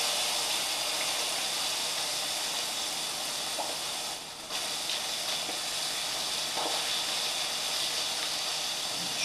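Steady, loud sizzling hiss of pike-perch (zander) frying in a pan, continuous throughout with a brief dip midway and no talking.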